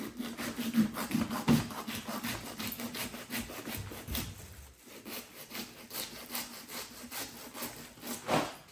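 A serrated, saw-like blade cuts through a butchered animal head in steady back-and-forth rasping strokes, close and rhythmic, with a brief pause midway before the sawing resumes.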